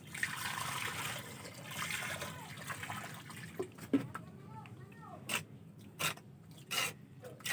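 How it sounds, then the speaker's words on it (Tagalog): Water trickles and splashes into a cement mix for a flower pot, starting as a continuous soft pour, then breaking into brief separate splashes and scrapes near the mixing, with a person speaking quietly in between. "Lagyan po natin siya ng tubig."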